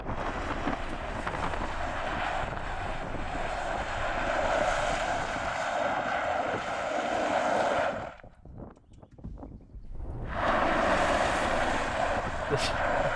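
An electric Mercedes G 580 spins in place in a G-turn, giving a steady, loud rushing whir with wind buffeting that drops away briefly and then swells back.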